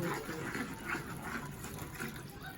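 Water is poured into a cooking pan with a crumbled chicken stock cube: a soft, continuous gushing pour, fairly quiet and steady, with no talk over it.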